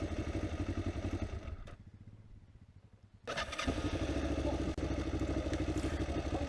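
Off-road motorcycle on a trail, its engine close and loud with a rough, pulsing rumble that drops away briefly to a quieter idle before revving back up strongly.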